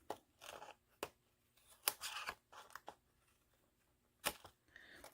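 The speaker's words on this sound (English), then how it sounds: "I'm just going to take a pair of scissors" Scissors trimming paper craft pieces by hand, giving a few sharp, quiet snips and crunches spaced irregularly with brief pauses between cuts.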